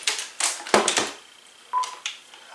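Keypad tones from an AT&T EP5995 cordless phone handset: a few short electronic beeps in quick succession, then a pause and a couple more tones, close and clear with no talking.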